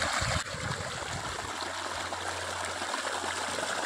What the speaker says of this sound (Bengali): দেখতে পাচ্ছ মেশিনের জলটা কত পরিষ্কার, আয়নার মতো চকচক করছে